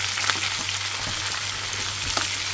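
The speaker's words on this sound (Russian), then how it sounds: "В общем, жарим, жарим, жарим." Food frying in a pan for a salad, a close, steady crackling sizzle with a few sharper pops and stirring taps, no talking.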